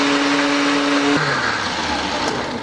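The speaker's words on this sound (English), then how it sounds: "Just going to close this and blend it to a paste." An electric blender grinds garlic, ginger, cilantro and celery with water into a paste, a loud close motor whine that drops in pitch partway through as the load shifts, continuing steadily to the end.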